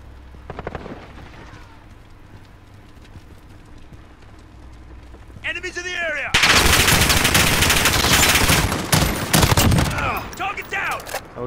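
Automatic weapon fire in the online multiplayer of Call of Duty: Modern Warfare (2019): quiet scattered shots build into loud, sustained bursts that dominate the later half, with metallic clatter and impacts between volleys.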